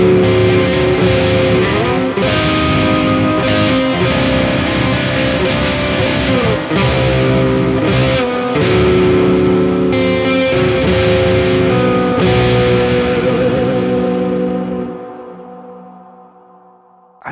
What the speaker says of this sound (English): The mod reverb is probably the most atmospheric, crazy reverb they have in here.